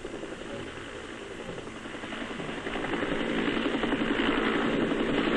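Military helicopters operating with Australian troops in Vietnam give a steady, droning rotor and engine roar that builds in loudness, with no speech over it.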